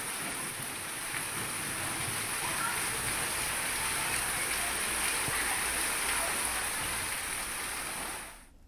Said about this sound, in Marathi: आज अवकाळी पावसाने चांगलं झोडपून काढलंय